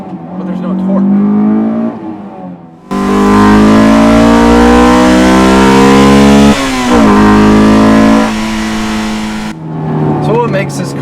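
A Honda S2000 AP1 with its 2-liter, 240-horsepower four-cylinder that revs to 9,000 RPM: loud sustained engine revving in two long rising pulls, with someone talking before and after.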